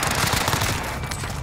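Rapid automatic machine gun fire rattles loudly and densely in Call of Duty Warzone on Rebirth Island, an unbroken burst of shots with no pause.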